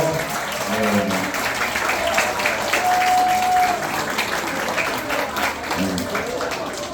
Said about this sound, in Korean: 오늘 한 번 더 큰 박수로